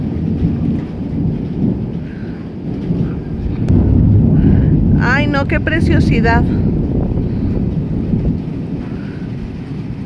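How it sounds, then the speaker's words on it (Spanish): A thunderstorm rumbles with heavy rain falling steadily, the low roll of thunder swelling in the middle, while someone speaks excitedly over it. "La fuerza que se escucha de los rayos, de lo que está tronando."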